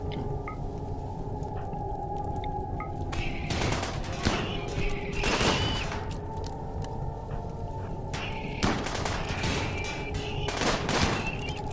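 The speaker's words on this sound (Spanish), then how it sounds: "Y todo el mundo dispara aquí." Gunfire from the RimWorld video game crackles in repeated volleys over steady background game music and tones, with clustered bursts of shots spread through the battle.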